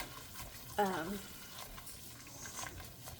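A nonstick-coated whisk stirs flour into a pan to make a browning paste, with soft, faint scraping and swishing and a short vocal sound near the start.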